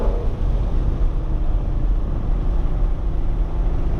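A Mustang fitted with headers and an aftermarket exhaust drives along, its engine giving a loud, continuous low rumble mixed with wind noise as it works through the gears.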